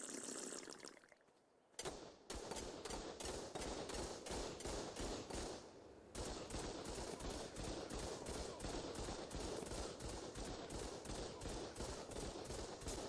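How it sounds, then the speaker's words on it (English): Heavy turrets firing in ARK: Survival Evolved, loud rapid bursts of repeated gunshots in a fast even rhythm after a short lull, continuing nearly nonstop. "Heavy turrets fire 4 bullets at a time."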